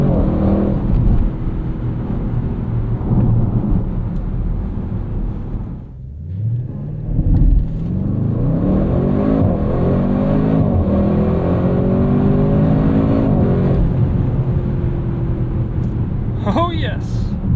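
A 2024 Audi RS6 Avant Performance engine revving loudly up through manually shifted gears from inside the cabin, with a brief dip at a shift followed by rising, climbing engine tones, and a voice talking over it.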